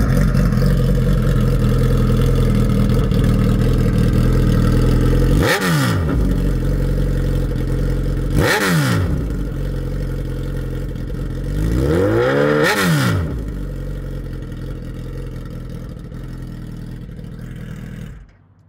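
A 2008 Suzuki Hayabusa sport motorcycle with a loud steady idle close by, broken by three sharp throttle blips that sweep up and fall back, then the engine shuts off at the end.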